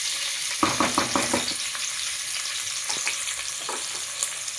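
Onion and green chili frying in hot oil with cloves and cinnamon, a steady close sizzle broken by several sharp crackling bursts and stirring clatters early on, then quieter popping.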